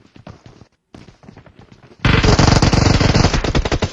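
Shotgun blasts and rapid automatic gunfire from a first-person video game, sparse shots at first, then a loud, continuous barrage from about the halfway point.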